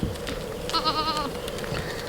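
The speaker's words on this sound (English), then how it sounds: "Just chilling with the goats." A goat bleats once, a clear wavering cry of about half a second, heard from a short distance on a shaded farm over a steady background rumble.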